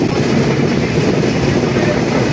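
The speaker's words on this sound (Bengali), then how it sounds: "রেলওয়ে স্টেশন থেকে আমাদের ট্রেন এখন জয়পুরহাটের উদ্দেশ্যে চলে গেল।" A passenger train runs along the rails, its loud, dense rumble and wheel noise steady and close throughout, with no talk.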